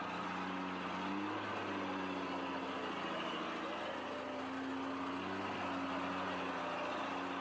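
A heavy truck stuck in mud with its engine revving hard and the throttle held wide open, a loud sustained droning roar with shifting tones that continues without a break.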